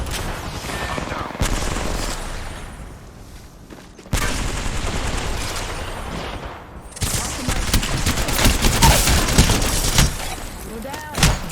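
Video game shooter gunfire, rapid crackling volleys that cut in and out in sections, building to dense sustained shooting, with a voice talking over parts of it.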